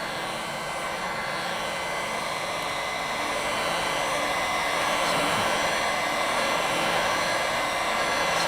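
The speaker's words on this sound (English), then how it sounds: "Keep it nice and a delicate stream of air going on the painting because I do not want to dry it." A hair dryer blows a gentle stream of air across an acrylic pour painting, making a steady, close whoosh that holds constant and swells slightly toward the end.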